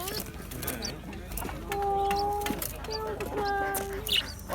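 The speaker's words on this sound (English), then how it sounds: "look at the size of these little finches in here" Pigeons and small finches in a pet shop give repeated short coos and high chirps over a low mechanical hum, with brief tonal calls scattered through and faint indoor bustle.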